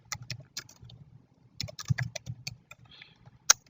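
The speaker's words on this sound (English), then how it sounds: "Okay, so I'm writing the shortcut key here" Keys clacking on a computer keyboard during a Microsoft Word tutorial, in quick irregular bursts with short pauses and one sharper keystroke near the end, close and fairly loud.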